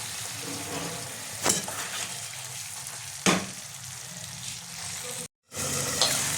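Bhola fish masala curry bubbles hard in a pan as a loud, steady hiss and sizzle, broken by a few sharp stirring knocks and one short gap of silence.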